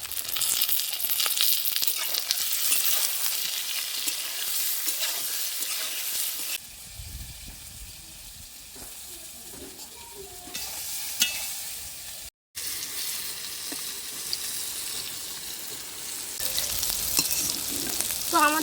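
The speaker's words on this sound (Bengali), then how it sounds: "এবার বেগুনটা ভাজার জন্য এখানে আমি একটু লবণ দিয়ে দেব, আর দিয়ে দেব হলুদ গুঁড়ো।" Eggplant frying in hot oil with salt and turmeric makes a loud, continuous sizzle close by. The sizzle drops quieter partway through, with occasional stirring clicks and a brief gap, then rises again.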